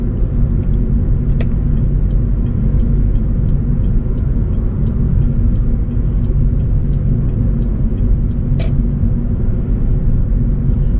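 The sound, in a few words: 1997 Acura CL engine accelerating in third gear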